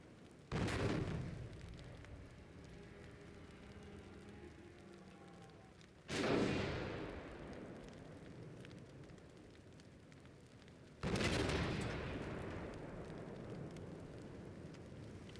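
Heavy naval cannon salvos boom out in Ultimate Admiral: Dreadnoughts, three loud blasts spaced a few seconds apart, each followed by a long rumbling decay with rain-like noise between shots.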